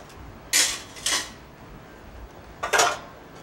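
Pyogo mushrooms dropped into a pot of galbijjim, three brief rustling thumps and clatters, two close together and one after a pause, fairly near with no talk.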